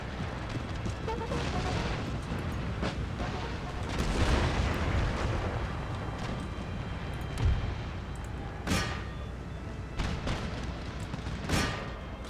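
Musket volleys and artillery fire from an Empire: Total War battle, with distant rumbling booms and crackling volleys over continuous battle noise, plus a few sharper, louder reports.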